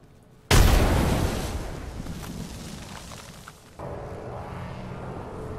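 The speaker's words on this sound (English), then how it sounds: "Dropping grenades." A grenade blast in a battle-royale style shooter game: a sudden loud boom followed by a long decaying rumble, then a second duller thump and continuing rumbling noise.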